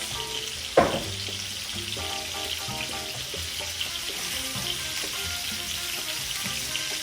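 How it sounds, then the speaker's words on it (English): Water poured into a hot pan of red beets, a sharp burst of hissing as it hits, settling into a steady sizzle and bubbling simmer with faint clinks under it. "So I'm gonna go ahead and add water to this."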